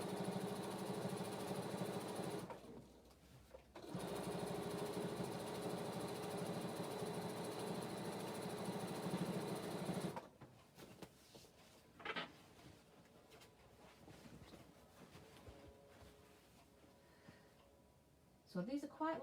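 A sewing machine runs long continuous stitching passes on a quilt seam, a steady mechanical whir that stops briefly, resumes, then gives way to quieter handling sounds and short bursts near the end.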